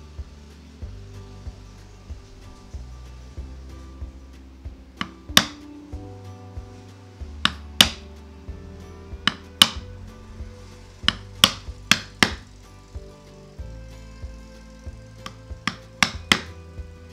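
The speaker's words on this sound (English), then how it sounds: "I mark and cut out the hinge mortise using a chisel and then install the hinges" A chisel cutting a hinge mortise in a wooden fly box, sharp distinct taps struck at an irregular pace, a dozen or so close blows over a low steady background hum.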